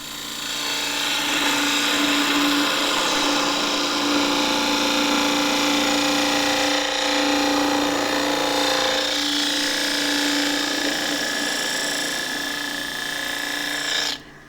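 Wood lathe spinning a skittle while a skew chisel cuts it, producing a loud, sustained whirring drone with a steady tonal hum and a brief dip midway before the motor cuts off at the end.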